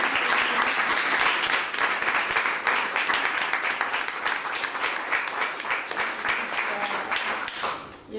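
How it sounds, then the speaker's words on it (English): Loud, close round of applause from an audience at a SAVVY Contemporary arts event, many hands clapping in a thick sustained burst that thins slightly toward the end before cutting off. "I really want for you to give a round of applause to them"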